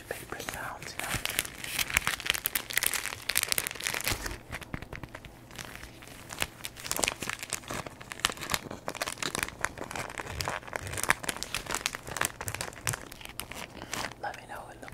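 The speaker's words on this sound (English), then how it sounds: "I like the way the tissue paper sounds" Tissue paper from a Dollar Tree haul being crumpled close to a Zoom microphone, a dense, continuous crinkling and rustling for fifteen seconds, with soft speech faintly underneath.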